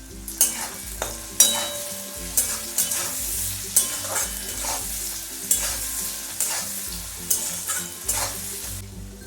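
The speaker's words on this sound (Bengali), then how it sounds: "আর কেটে রাখা পেঁয়াজগুলো নরম হওয়া পর্যন্ত আমি নাড়ব।" Chopped onions and green chilli fry in a pan with a cardamom pod and bay leaf for chicken kosa, a spoon stirring in repeated scraping strokes over a steady sizzle, close and fairly loud, with no voices.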